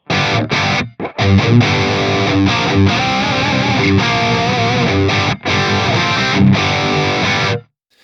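Heavily distorted electric guitar, an STR LJ1 played through a Fractal AX8 amp modeler, playing chunky, sustained chords and riffs, loud and close, with brief gaps where the notes cut off.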